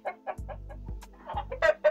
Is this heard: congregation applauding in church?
no